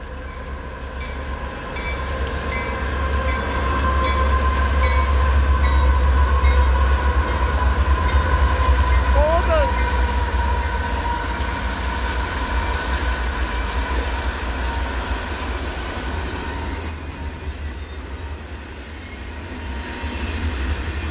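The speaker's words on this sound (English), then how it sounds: "there's a train coming from that direction" A train rumbles past with a steady low roar and rolling wheel noise, growing louder then fading slightly over about twenty seconds, with a brief squeal partway through.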